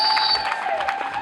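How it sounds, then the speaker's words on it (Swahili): Church congregation at a worship service in Bukumburi applauding together, a steady wash of dense clapping filling the short moment with no pauses, fairly loud and close. "Tumpige Bwana Yesu makofi mazuri"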